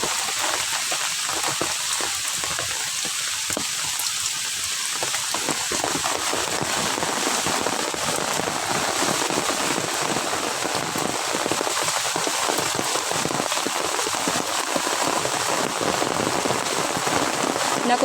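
Heavy rain pours down in a mangrove, a loud, dense and continuous patter of drops on water and leaves that stays steady throughout with no voices.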